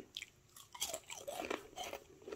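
Close, crisp crunching and chewing of low sodium bacon, with several irregular crackling bites in quick succession and no talking.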